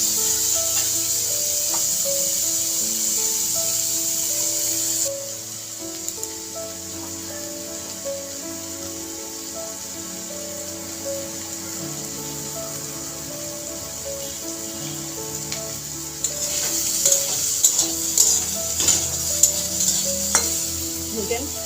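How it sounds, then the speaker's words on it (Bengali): Paneer pieces frying lightly in oil in a pan, a continuous hiss of sizzling that drops in level partway through, then livelier bubbling and stirring scrapes near the end, close and without speech. "হালকা করে ভেজে নেব।"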